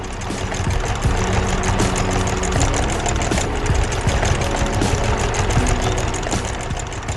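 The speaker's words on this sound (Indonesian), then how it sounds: "Traktor kuning sedang bekerja keras di ladang yang sudah dibajak" A yellow tractor engine runs steadily in an animated cartoon farm field, a loud continuous idling rumble with a rhythmic knocking chug, heard alone with no voices.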